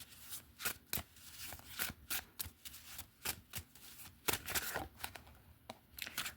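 Tarot cards being shuffled by hand at close range, a series of crisp riffling bursts and flicks in an uneven rhythm, fairly quiet and with no talking.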